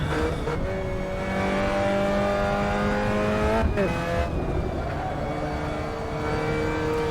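A Spec Miata (MX-5 Cup) race car in a racing video game holds a steady, buzzing engine drone, then the pitch drops sharply at a gear change or lift before climbing again, loud and continuous with no talk.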